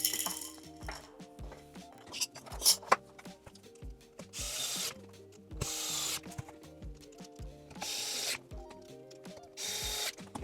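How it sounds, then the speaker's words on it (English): A screw is driven by hand to fasten a 3D-printed accent piece onto the handle of a Bambu Lab handheld vacuum kit, giving close, irregular plastic creaks and clicks with short bursts of scraping and a few sharp taps. "It just slots in there and you can screw that in."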